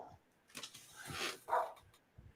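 A dog named Brady barks indoors, a few short, sharp woofs and a yip spread over a couple of seconds, moderately close but not loud, with no voices over it.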